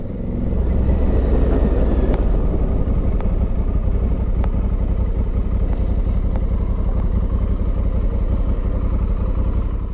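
2023 Honda Africa Twin motorcycle on the road, with a loud, steady engine rumble and clatter mixed with wind noise, continuous and close for the whole stretch, with no voices.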